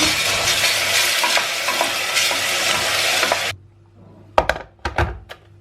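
Loud continuous sizzling of chopped chicken frying in a pan with stirring for several seconds, then quieter with a few sharp clanks and scrapes.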